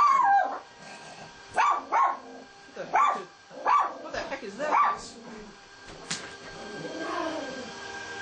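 Dogs bark and howl in the Skyrim video game, a series of repeated yelps and barks over the first five seconds followed by a longer drawn-out howl, heard under someone talking.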